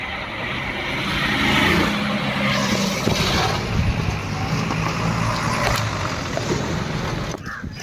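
Bus pulling away through heavy traffic near the Arnala fish market, a steady broadband engine and road rumble that stays loud and close, with a faint voice underneath.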